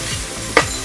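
Raw mango pieces hitting hot oil in a pan for Telangana-style fish curry: a brief, close sizzle with a quick stirring scrape, no talking.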